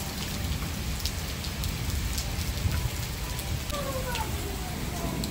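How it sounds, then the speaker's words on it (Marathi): Heavy monsoon rain pours down in a dense, unbroken roar of drops on surfaces, steady and loud throughout. "पाऊस खूप सारा पडलेला आहे"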